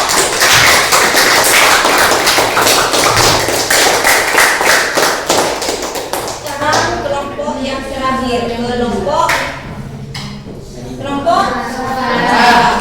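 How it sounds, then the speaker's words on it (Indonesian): A classroom audience applauds the red group with dense, lively clapping for about six seconds, which then tapers to scattered claps as a voice starts talking over the fading applause. "tepuk tangan untuk kelompok merah"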